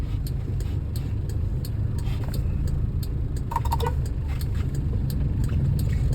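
A car engine idles in traffic in the BF area, a steady low rumble running throughout with faint ticking and a few brief clicks, no voices.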